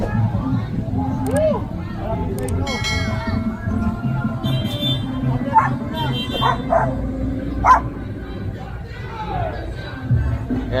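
Several dogs bark, yip and whimper in a busy street setting, short bursts scattered throughout over steady traffic rumble and people talking nearby.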